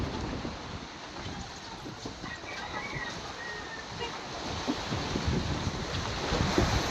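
A boat passes by out on open sea, its engine a steady broad rumble blended with wind buffeting the microphone and wash of waves, swelling slightly louder toward the end.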